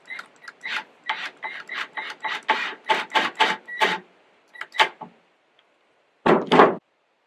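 A 1.25-inch screw driven into a turkey tail fan mount with a power driver, heard as a string of short, close mechanical whirring bursts in rapid rhythm, then a pause and one final louder burst as it snugs tight.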